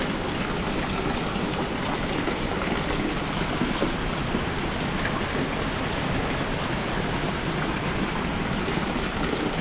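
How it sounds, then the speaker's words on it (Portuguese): Steady rain falls in Japan, a dense continuous hiss of drops on surfaces, loud and close with no pauses and no talking. "Quanto tempo faz que eu queria ver a chuva"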